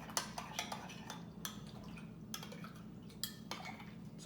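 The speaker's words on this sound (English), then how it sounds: "Just try to mix well, so there's no separation between the soap and the water." Castile soap being stirred into water in a container, faint clinks and scrapes of a utensil against the vessel with small liquid sloshes in an irregular rhythm, quiet and close.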